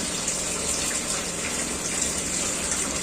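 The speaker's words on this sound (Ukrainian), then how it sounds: "нічого не вимкнулося і вода собі біжить" Water from a pump powered by a Grad 3 kW generator gushes continuously with a steady, broad rushing hiss, close and unbroken, with no voices.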